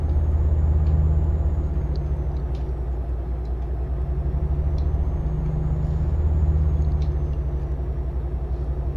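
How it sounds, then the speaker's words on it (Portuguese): A MAN truck passes along a road near the England–Scotland border, a steady loud engine rumble and tyre roar swelling and fading over several seconds, with faint higher whines and no talk. "Outro MAN, caminhão MAN."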